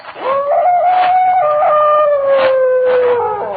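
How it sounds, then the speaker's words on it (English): A dog howls in a single long, drawn-out wail carried across a lake at night, a sustained mournful cry that slowly falls in pitch with faint breaks, heard alone with no talk, as a sound effect in a radio drama. "From somewhere across the lake, I heard the cry of a dog"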